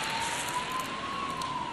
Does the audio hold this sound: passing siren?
yes